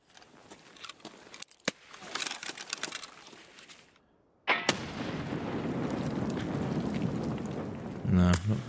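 A grenade goes off in Escape From Tarkov: after quieter rattling and a brief hush, a sudden loud blast erupts and rolls on as a sustained rumble, with some talk around it.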